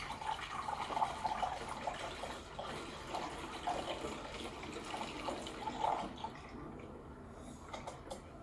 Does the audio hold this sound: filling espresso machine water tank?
yes